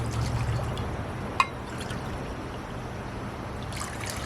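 Two cups of water pour into a pot for simple syrup, a soft steady trickle running under light background noise, with a single sharp clink partway through.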